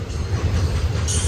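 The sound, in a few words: Union Pacific manifest freight train with locomotives passing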